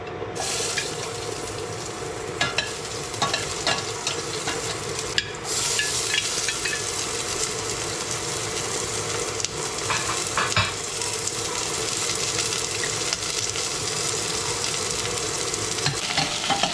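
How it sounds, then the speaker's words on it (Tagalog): Food sautéing in a pan on a home stove, a loud steady sizzle close by with scraping stirring strokes and occasional clinks running throughout, no voices. "Magigisa na ako para may sabaw-sabaw."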